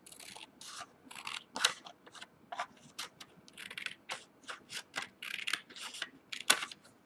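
Scissors cut a strip of paper off a cardstock photo mat, a run of close, crisp snips that comes in quick irregular bursts with short pauses between them.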